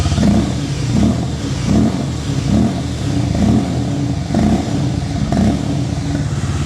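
A 2026 Harley-Davidson X440T motorcycle revs close by, its engine rising and falling in several throttle blips over a rumbling idle, loud and without speech.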